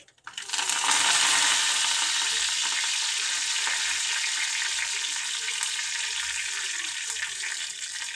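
Curry leaves hit hot oil with a loud, bright burst of frying that starts abruptly and stays as a dense, steady crackling sizzle close by.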